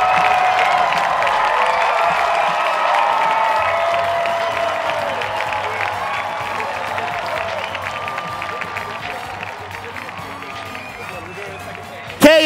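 A stadium crowd at a BYU men's soccer match cheers and claps in a sustained, broad roar with whistles and shouts, continuous from start to finish, ending in a sudden sharp burst.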